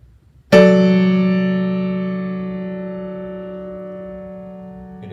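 Major triad chord voiced widely apart and inverted, struck once with a sharp attack and left to ring, decaying slowly over several seconds, clear and alone with no voices.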